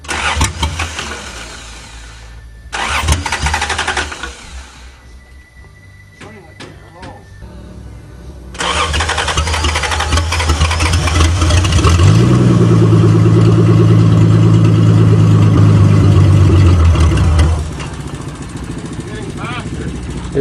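A 1982 Toyota Cressida engine cranks in short tries, then catches, roaring loud and close as it revs and runs rough for several seconds before settling to a lower idle, with people talking around it.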